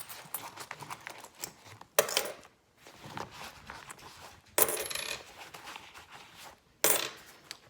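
Australian coins, a $1 coin, a 20-cent piece and a 50-cent piece, drop one after another into a jar, giving several bright metallic clinks and rattles in close, fairly quiet bursts with no talking.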